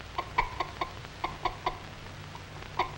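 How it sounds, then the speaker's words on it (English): A hen clucks in short, repeated bursts, about ten sharp clucks spaced irregularly over a quiet, low background hum. "This fussy old hen doesn't like to have cats and kittens around."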